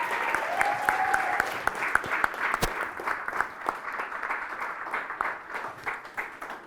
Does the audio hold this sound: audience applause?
yes